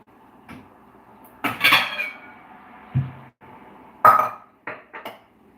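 A metal cooking pot for Jamaican peanut porridge spins and clatters on a stovetop, giving sharp intermittent metallic clanks and scrapes in short bursts with quiet gaps between them, close and fairly loud, with no talking.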